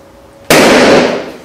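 A balloon marked with a black dot bursts when heated by a laser: one sudden loud pop after a quiet lead-in, followed by a broad hissing decay that fades over about a second, with no talk.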